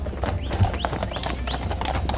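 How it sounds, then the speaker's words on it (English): Heavy hooves of Clydesdale horses clop rapidly on hard ground in a quick, uneven rhythm, fairly close, with no voices. "They basically let out these huge Clydesdales."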